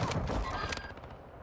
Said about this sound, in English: They just fired in the smoke here